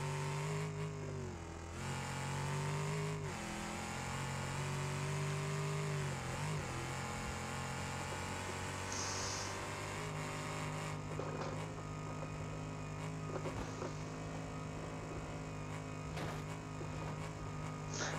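A steady car engine in BeamNG.drive drones throughout, its pitch rising and falling as it revs, with no talking over it.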